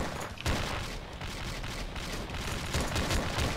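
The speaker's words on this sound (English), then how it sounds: "I'm down to my submachine gun." Continuous rapid gunfire from a submachine gun in the horror game Slendytubbies 3, a dense loud burst of shots sustained throughout with no talking.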